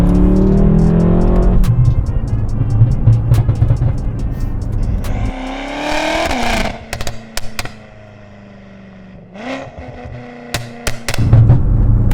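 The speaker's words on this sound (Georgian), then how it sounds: "ამას რა თქმა უნდა Aftermarket Valtronic-ის გამშვებიც უზრუნველყოფს. მაგრამ ისედაც ამ ძრავს ძალიან კარგი ხმა აქვს." Throaty revs from a BMW M6 sports car fitted with an aftermarket Valtronic exhaust, loud and close, rising in strong bursts, dropping to idle, then revving again with sharp crackles between pulls.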